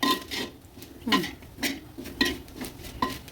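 Irregular scraping and clinking of a utensil against a clay pot as tuna head curry is stirred, with soft knocks spaced about half a second apart.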